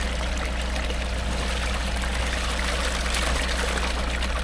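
Water pouring steadily from a village spring, Uyuz Pınarı in Güldere village, Karaman, a loud continuous close-up rush and splash with no pauses and no talking.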